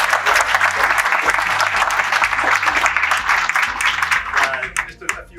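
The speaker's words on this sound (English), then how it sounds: "I think we should have one more round of applause" Audience applause at a club town hall and mingle event with an ambassador, sustained dense clapping from a crowd, loud and steady before tapering off near the end.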